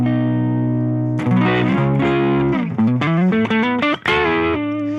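An electric guitar through the Deluxe amp model of a Boss GT-1000 plays a sustained chord, then a quick run of distorted single notes and bends before settling on a ringing chord.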